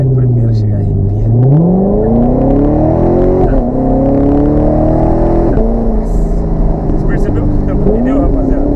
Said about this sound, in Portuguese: nas trocas de marcha, ela canta pneu de primeira pra segunda, de segunda pra terceira, e de terceira pra quarta